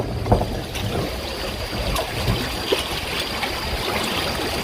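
Sea water lapping and washing near Pulau Ubin, Singapore, a steady broadband wash with a few soft splashes, close and moderately loud, with no voices.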